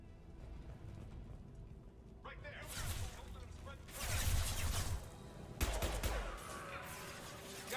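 Bursts of gunfire erupt in a Mass Effect Legendary Edition firefight, rising from a quiet start into several loud volleys over low background sound and voices.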